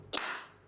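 One crisp, loud clap from students in a classroom, a sudden snap followed by a brief reverberant tail and then quiet.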